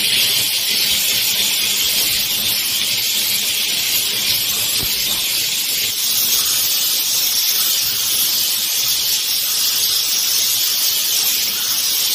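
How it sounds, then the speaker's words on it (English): A handheld steam cleaner blasts a dirty bathroom sink with a loud, continuous high hiss that holds steady and close for the whole stretch, with no voices. "I got the steamer in my hand."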